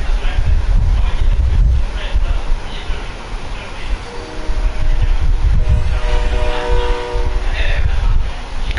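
A train in the video game Fortnite rumbles past loud and close, with wind-like noise throughout and a sustained horn sounding midway through.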